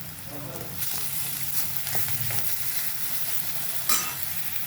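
Large green chilies sizzle steadily in a hot pan, a close, continuous frying hiss with occasional stirring clicks and a brief louder crackle near the end.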